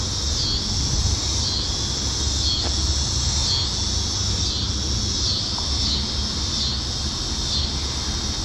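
Cicadas calling outdoors near a fishing spot, a loud, continuous high buzzing chorus with a regular pulsing rise and fall that never drops out.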